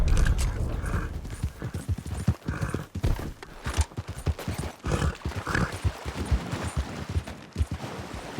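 Horse hooves clip-clop at a steady trotting rhythm in Red Dead Redemption 2, loud and close, with a brief snort or whinny among the footfalls.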